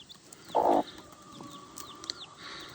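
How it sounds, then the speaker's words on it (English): Small chicks on a farm with a few faint, high peeping chirps scattered over a quiet background, plus one louder, brief burst of sound near the start. "Lots of chickies. Lots of baby chickies."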